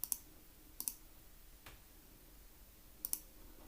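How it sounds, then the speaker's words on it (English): Sharp isolated clicks of keys pressed on a TI graphing calculator, a pair near the start, another pair a moment later, then a pause before two more, quiet and close with no talking. "let's type in quadratic without the I"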